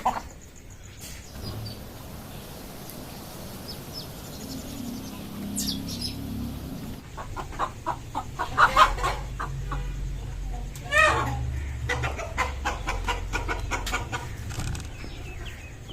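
Rooster clucking in a farmyard, a series of short, irregular clucks heard fairly close over low background noise and some faint chirping birds.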